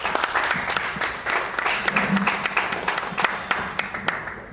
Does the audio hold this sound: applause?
yes